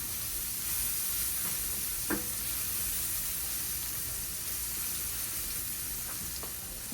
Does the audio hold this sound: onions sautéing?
yes